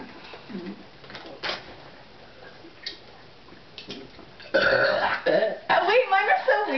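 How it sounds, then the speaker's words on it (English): Burping contest sounds: several loud, rough belches in quick succession, mostly in the second half, with softer vocal noises and murmurs before them. "We're burping."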